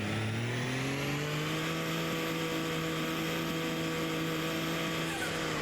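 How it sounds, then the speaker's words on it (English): A truck in Farming Simulator 22 drives closer, its engine holding a steady mid-pitched drone with a slight rise in pitch at the start, fairly faint and alone. "To move the truck a little closer."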